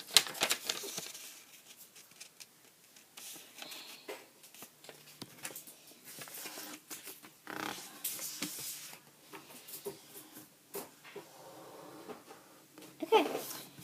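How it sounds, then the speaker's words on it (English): Origami paper creased and folded by hand while shaping an iris, giving soft, irregular crinkles, rustles and sharp taps spread over several seconds, fairly quiet and close. "you're going to fold this edge right here up to the top edge"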